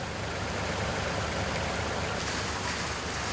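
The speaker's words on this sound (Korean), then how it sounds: "점점 잦아드는 빗방울." A passing rain shower falls over an outdoor worksite where large old pine trees are being transplanted, producing a steady, even hiss of raindrops with no voices.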